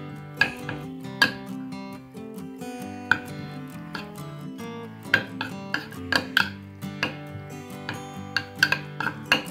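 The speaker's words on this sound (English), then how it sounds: "just you need to mix this ginger and Vaseline jelly very well" Ginger and Vaseline jelly being mixed in a dish, with a spoon clinking and tapping against the bowl in irregular bursts of sharp knocks and scrapes, fairly faint and close, with no voices.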